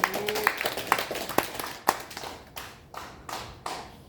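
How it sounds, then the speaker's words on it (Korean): A church congregation at a Monday worship service in a care home claps in a short burst of applause, with sharp, scattered hand claps in an irregular rhythm that thin out toward the end. "우리 하나님께 영광의 박수 한번 올려주세요"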